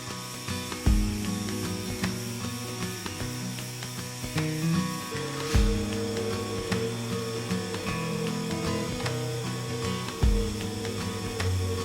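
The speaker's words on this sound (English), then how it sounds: "Now this is just going to help contour to the spindles and get them sanded." Power sander fitted with a soft interface pad working over the wooden spindles of a church chair: a continuous close motor whir with abrasive rubbing, pausing briefly and restarting in regular passes, with no talk.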